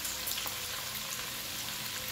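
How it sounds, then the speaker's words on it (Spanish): Chicken liver frying in a pot for dirty rice, a steady close hiss and crackle of sizzling fat that runs evenly throughout, with no voices over it. "como pueden ver, ya está friendo"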